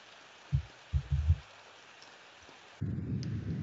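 Rain and thunder ambience in the horror video game Ao Oni: low rumbling thunder bursts early on, quiet rain texture between, then a steady louder rain-like wash to the end.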